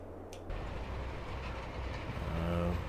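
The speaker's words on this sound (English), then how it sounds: "it shouldn't take too long for the train to get here" Train arriving on railroad tracks in Farming Simulator 22 on the Elmcreek map: a faint, steady low rumble of rolling rail cars, with a brief high squeal near the start and a tonal horn-like hum rising toward the end.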